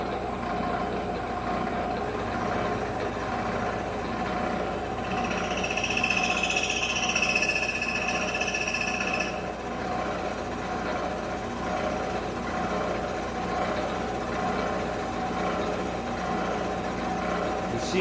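A CNC mill spindle bores the center hole in a car wheel, giving a continuous low mechanical drone. A brighter high whine rises over it for several seconds midway, then drops back to the steady hum.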